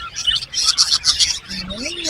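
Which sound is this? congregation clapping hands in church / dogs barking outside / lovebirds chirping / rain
lovebirds chirping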